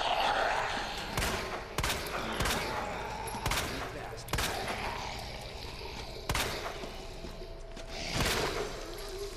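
Gunfire during target practice in the Resident Evil 2 video game: about seven sharp, loud shots at irregular intervals over a steady ambient background, with no talking.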